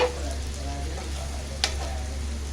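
Chicken liver pieces frying in hot oil in a home kitchen, a steady close sizzle with one sharp pop partway through.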